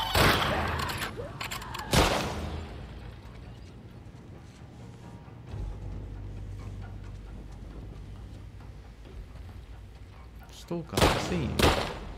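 Gunfire in The Last of Us Part II video game: a heavy shot bursts at the start and again near the end, with a loud cluster of shots, separated by a stretch of low rumbling ambience.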